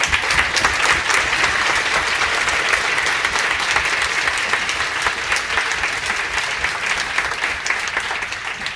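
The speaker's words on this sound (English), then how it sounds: "I applaud you. I applaud all of you." Loud, steady applause from a large audience at a public rally in Lembah Pantai over disputed general election vote tallying, dense clapping continuing unbroken for several seconds with no speech over it.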